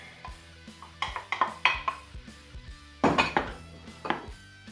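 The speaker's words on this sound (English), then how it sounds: "we're just gonna keep stirring till this melts all down into a nice, smooth and creamy texture" Shredded pepper jack cheese being stirred into a Guinness cheese sauce in a pot, with irregular clanks and taps of a utensil against the metal rim and quiet gaps in between.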